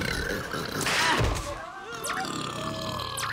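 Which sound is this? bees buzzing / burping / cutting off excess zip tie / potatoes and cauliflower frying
burping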